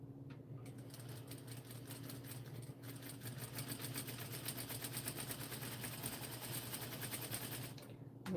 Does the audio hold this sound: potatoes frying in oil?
no